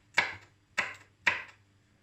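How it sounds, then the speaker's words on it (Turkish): Three crisp knife chops through garlic on a board, spaced unevenly and heard up close in a quiet room, each a sharp tap that quickly fades. "Şöyle sarımsaklarımı da doğruyorum."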